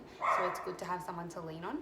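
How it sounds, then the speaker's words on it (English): Dogs bark indoors at passers-by outside, the yelps blending under a voice as she keeps talking. "Excuse my dogs barking at probably just people walking past."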